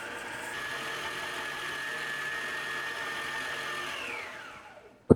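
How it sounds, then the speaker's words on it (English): A stand mixer runs at a steady whirring hum while mixing cookie dough ingredients, close and continuous, then spins down near the end and stops with a brief knock. "You can use an electric hand mixer, but I prefer to use a stand mixer instead."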